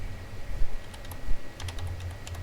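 Keys clatter on a computer keyboard as a student ID number is entered into a database form. The taps come in irregular clusters, close and moderately loud, with no voices.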